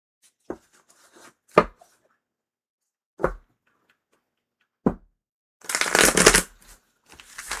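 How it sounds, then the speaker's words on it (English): A deck of tarot and oracle cards is shuffled in a few short, separate riffles, then one longer, louder flurry of flapping cards; quiet pauses in between. "Need more shuffle, shuffle, shuffle."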